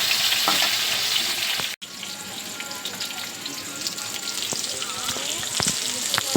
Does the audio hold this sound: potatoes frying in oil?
yes